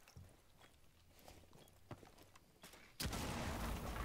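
Scattered quiet game sounds give way to a sudden loud, sustained burst of video game gunfire aimed at red shields, the firing continuing to the end.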